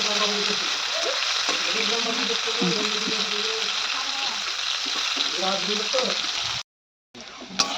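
Bitter gourd pieces sizzle steadily in a frying pan, a loud continuous crackle with background music, cutting briefly to silence near the end before resuming.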